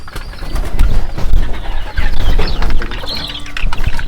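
Pigeons coo in soft, repeated bursts amid a busy farmyard with native chickens and ducks, with rustling and other bird calls close by.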